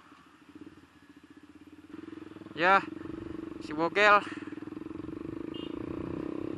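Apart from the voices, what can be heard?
motorcycle with racing exhaust (Termigoni brand)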